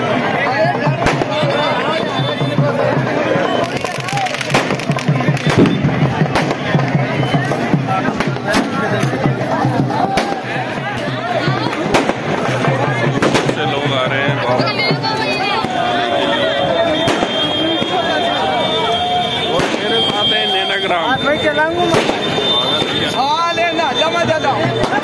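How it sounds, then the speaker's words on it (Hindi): Fireworks crackle and pop repeatedly amid a lively crowd at a Shri Khatu Shyam birthday celebration, with people chattering and shouting throughout over a dense, noisy backdrop. "जबरदस्त आतिशबाजी का नजारा मैं आपको दिखा सकता हूँ"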